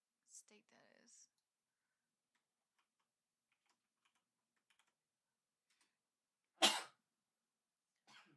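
A single short, sharp sneeze bursts out near the end, loud against near silence, after brief talk and faint clicks earlier.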